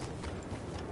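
Hollow clip-clop of horse hooves, steady and continuous, set against a dense background wash of game noise in Red Dead Redemption 2.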